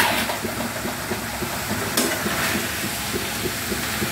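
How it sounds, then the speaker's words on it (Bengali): Boiled taro stolons being stirred with spices in a hot pan, a steady close sizzle with soft scraping and shuffling of the stirring utensil throughout, no talking. "নেড়ে চেড়ে নিচ্ছি, মশলাটা যেন ভালো মতো সবটির সাথে লেগে যায়।"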